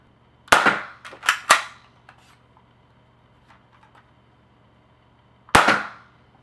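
A BoomCo Halo M6 toy foam blaster fires three sharp snapping shots in quick succession, followed by a pause with faint handling clicks, then one more loud shot.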